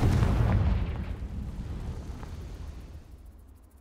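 A Confringo blasting spell explodes in the Hogwarts Legacy video game, a loud booming blast with a deep rumble that fades slowly over several seconds.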